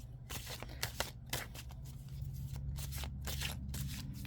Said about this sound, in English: I'm going to shuffle this probably pretty badly on camera